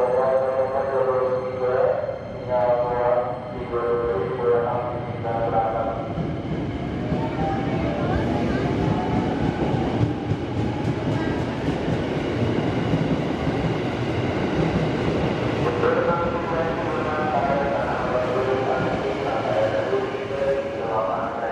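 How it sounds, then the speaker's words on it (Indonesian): Station platform ambience at tracks 6 and 7 of Manggarai station in Jakarta: a steady wash of rail noise and rolling train rumble, with a public-address voice and tonal announcements drifting in and out under the din. "saat ini saya sedang berada di jalur 6 dan jalur 7 stasiun Manggarai"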